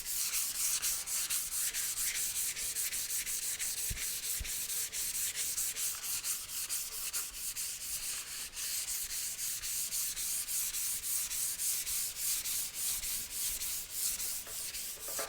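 Hand sanding of primer on a Suzuki motorcycle gas tank with very light pressure, a steady close rhythmic scratchy rubbing that continues back and forth without pause and with no talking.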